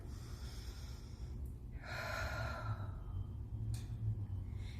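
Slow, deep breaths drawn into the rib cage and stomach during a gentle core exercise, each inhale and exhale audible and close, with a soft sniffing rush between steady breaths and no talking.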